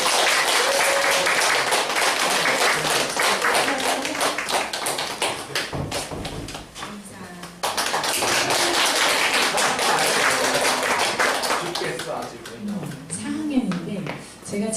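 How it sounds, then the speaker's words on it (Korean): An audience at a winter-break class graduation gives sustained applause to welcome a child's piano performance, dense steady clapping that briefly dips midway before resuming at full strength, with voices faintly underneath. "네, 큰 박수로 맞아주세요."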